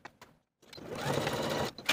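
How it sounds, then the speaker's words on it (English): A sewing machine stitches the side seams of jumpsuit facings with a 5/8 inch seam allowance, a short pause followed by a steady, close mechanical whir of the needle running continuously. "Sew both seams with a 5/8 inch seam allowance, finish the seams separately, and press them open."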